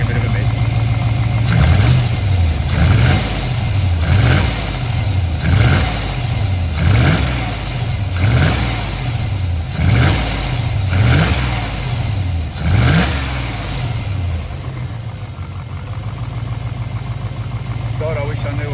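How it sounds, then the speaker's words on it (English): A cold V8 engine takes its first throttle hits, giving a series of short, loud revs that rise and fall in a regular rhythm before settling into a rough idle. "this is just to see how it responds with the very first hit of the throttle"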